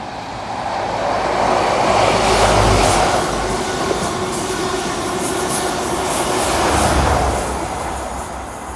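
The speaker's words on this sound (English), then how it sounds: "Hang on, train." A Class 43 high-speed train in GWR livery passes on a Devon railway line near Plymouth, a loud sustained rumble of wheels and engine that swells, dips and swells again as the carriages roll by close at hand.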